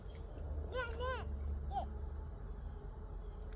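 Insects buzzing and chirping outdoors in a park, a steady faint high hum under a few short chirping calls near the start, with no talking.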